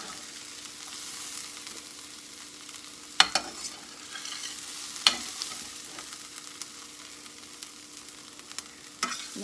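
Onions and peppers stirred into a pot of baked beans: a steady low sizzle with a few sharp scraping and clinking knocks of the spoon against the pot, close and moderately quiet, no talk.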